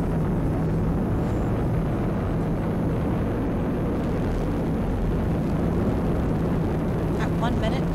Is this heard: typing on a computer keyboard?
no